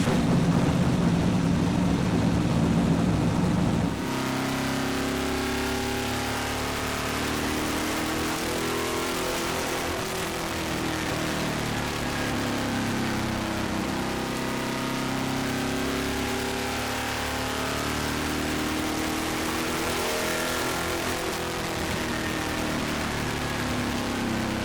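Lap inside a ride-and-drive late model race car, with an idling engine at first, then a loud, sustained engine roar as the car accelerates and rises and falls in pitch through shifts and corners.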